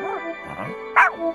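A dog yips and barks in a few short, high bursts over a background of music, with whimpering tones between them.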